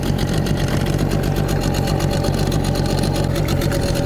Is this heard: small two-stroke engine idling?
yes